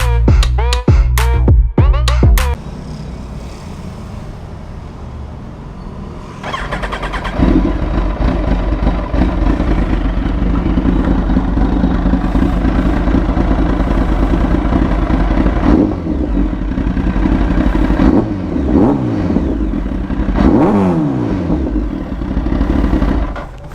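A 2004 Kawasaki Ninja ZX-10R with a 998cc liquid-cooled engine clatters and revs sharply at first, then settles into a steady, loud idle, with a couple of brief throttle blips later on.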